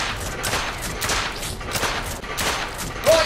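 Gunfire in the video game The Order 1886, a dense run of repeated shots and crackling bursts in a steady stream, fairly loud and without pauses.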